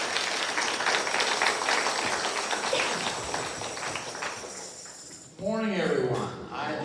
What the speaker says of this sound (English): Please welcome with a warm round of applause, Reverend Dr. Louis Gates.